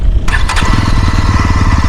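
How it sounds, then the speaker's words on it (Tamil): A 2022 Yezdi Roadster motorcycle engine fires up and settles into a loud, steady, throbbing exhaust burble, close by and with no talking. "எக்ஸாஸ்ட் நோட்டை மட்டும் கேளுங்க."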